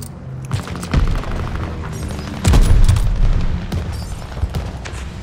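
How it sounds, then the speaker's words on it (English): Heavy booming explosions from a friendly bombing run in Call of Duty: Vanguard, several deep blasts rolling one after another with the loudest burst near the middle, set against continuous battlefield noise. "Friendly bombing run on the way."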